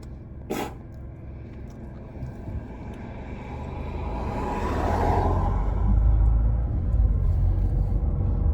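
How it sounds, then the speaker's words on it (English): A car passes on a street where skateboarders wait, a broad low rumble that swells over the last few seconds as it approaches and goes by, with a brief whoosh of board or wind noise early on. "Gonna wait for a vehicle."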